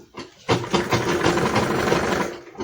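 A sewing machine stitches a fabric seam for an iro and buba outfit, a short steady burst of motor whir and rapid needle clatter close by.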